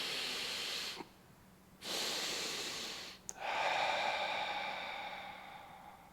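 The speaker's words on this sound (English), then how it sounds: "You simply exhale all the air out." Forceful breaths through the mouth during a yoga breathing demonstration: long, close, breathy hisses in a steady rhythm, with brief pauses between them and no talking.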